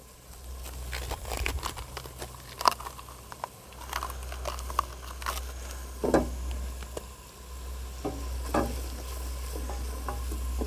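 Garlic sizzles in a hot pan for a pumpkin and ginger soup while a utensil stirs and scrapes it, giving irregular close clicks and scrapes over a constant frying hiss and low hum.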